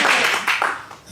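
A short burst of clapping from a live audience, a few quick claps blending into brief applause that fades within about a second.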